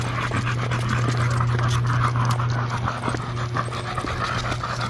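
Dogs pant rapidly and steadily up close, a continuous breathy rhythm over a low humming background.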